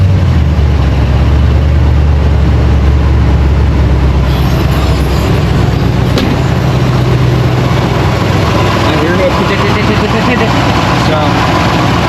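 GMC K2500 truck engine running right after a spark plug and wire replacement, a loud, steady low rumble of idling throughout, with faint clicks and some background noise.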